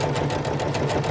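A sewing machine stitches jelly roll quilt pieces in a fast steady mechanical whir with rapid rhythmic needle clicks, close and continuous with no talking.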